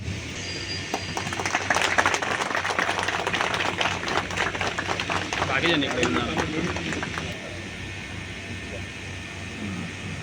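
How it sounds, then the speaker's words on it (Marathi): Clapping from an audience at a felicitation ceremony for a police superintendent, a dense sustained patter that tapers toward the end. "जोरदार टाळ्या होऊन जाऊया"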